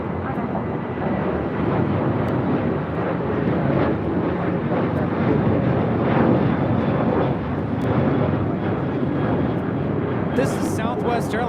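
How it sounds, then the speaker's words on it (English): Southwest Airlines Boeing 737-700 taking off at LAX, a loud continuous jet roar with rumbling low end and gusty texture, a voice speaking over it throughout. "This is Southwest Airlines 479 taking off to Tucson on a 737-700."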